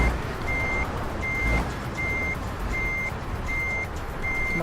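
A truck in the Euro Truck Simulator 2 driving game backs up with a regular electronic reversing beeper, six evenly spaced beeps over steady engine rumble, with no talk.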